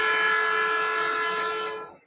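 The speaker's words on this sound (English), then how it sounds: "I like trains that hoot" A train whistle sounds one sustained, bright hoot with steady tones, loud and close, fading out at the end.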